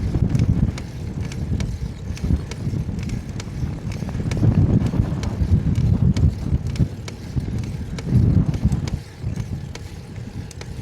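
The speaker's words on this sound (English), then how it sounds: "This wind is going to be tiring after a while, I'm sure." Loud, constant wind buffeting the microphone while cycling on a road, a heavy low rumble that surges and eases over a faint rattle of the bike.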